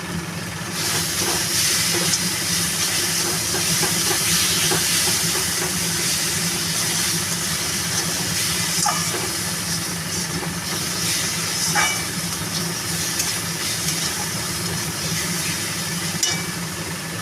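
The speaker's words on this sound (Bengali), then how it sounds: "মশলা কষা হচ্ছে" Spice masala for a fish curry is sautéed in a pan, heard as a steady broad hiss and low rumble of frying that carries on evenly without talk.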